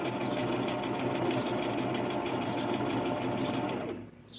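A Simplicity 9603 sewing machine stitches a buttonhole, its steady rapid mechanical chatter running loud and close without pause for about four seconds before abruptly stopping.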